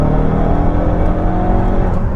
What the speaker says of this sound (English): Plant the throttle.